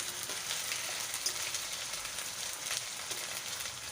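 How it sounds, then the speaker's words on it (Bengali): Garlic paste stirred and fried in oil for a Bombay duck dish, a continuous hissing sizzle close by with faint stirring movements throughout. "রসুনটা একটু তেলে নাড়াচাড়া করে নেব।"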